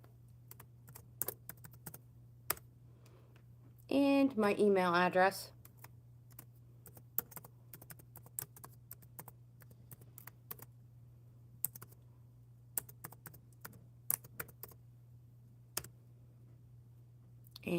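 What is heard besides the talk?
typing on a computer keyboard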